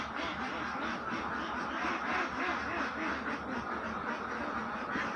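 A flock of ducks on a duck farm, laying hens and young ducks, quacks in a dense, continuous chorus of overlapping calls. The sound is loud and close and fills the whole stretch.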